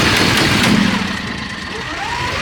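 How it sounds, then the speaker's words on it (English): A loud engine idles steadily up close with a rough, rumbling drone and a faint whine rising through it. "It's just the engine being annoying."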